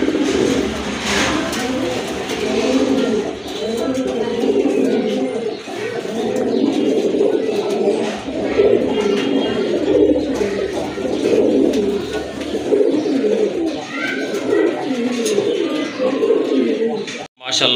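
Pet pigeons, including ragolla and other native and foreign breeds, coo steadily and close by for the whole stretch, a continuous low rolling murmur with some softer chirps mixed in.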